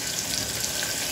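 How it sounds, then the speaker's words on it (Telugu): Green chillies frying in a hot pan of oil, a steady close hiss and crackle of sizzling that holds evenly through a short moment. "అది బాగా ఫ్రై అయిన తర్వాత"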